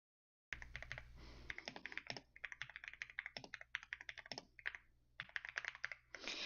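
Rapid clicking of keys being typed on a computer keyboard, close and fairly quiet, in uneven bursts with brief pauses.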